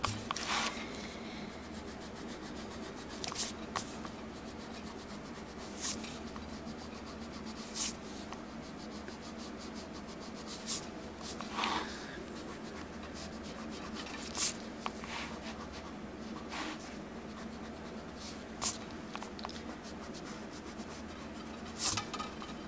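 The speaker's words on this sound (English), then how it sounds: "I think I'll erase my lines before I do this next step." A pencil eraser rubs over a paper planner in repeated short scrubbing strokes, close and soft, with occasional brisker bursts and quiet pauses between them.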